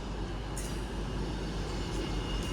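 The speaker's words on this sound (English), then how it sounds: "the train now arriving into platform 2 is the 1353 East Midlands Railway service to Nottingham" An East Midlands Railway class 158 diesel unit, 158774, pulls into a platform at Stockport station with a steady low rumble and a faint brief squeal partway through, no voices over it.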